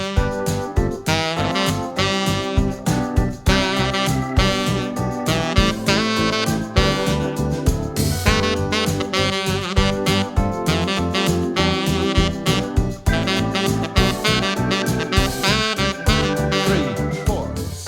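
Tenor saxophone phrase circling the root, a couple of notes down and back, played alone over a full backing groove with drums and bass; loud, steady and close throughout.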